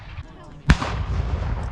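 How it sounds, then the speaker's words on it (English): A single distant boom from a cannon fired at a Civil War reenactment in Decatur, Alabama, a sharp report followed by a rolling rumble that lingers over steady outdoor background noise. "They went over to where the guys got a cannon."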